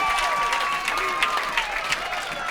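High school football crowd at Lake City cheering and applauding after a tackle for a loss against Beal City, a moderate wash of claps and shouts heard at a distance under a commentator's voice.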